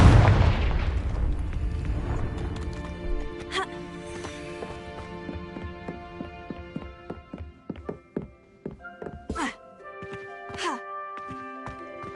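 Confringo explosive spell in the video game Hogwarts Legacy, a heavy booming blast that rumbles and decays over several seconds, followed by scattered ringing chimes and thuds.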